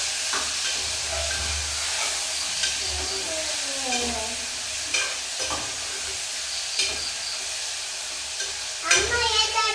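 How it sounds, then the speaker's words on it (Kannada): Tomato gojju cooking in a pan, with a steady hissing simmer broken by scraping stirs and occasional spoon knocks, close and moderately loud, with a faint voice in the background. "ಟೊಮೆಟೊ ಗೊಜ್ಜು ಮಾಡ್ತಾ ಇದ್ದೀವಿ."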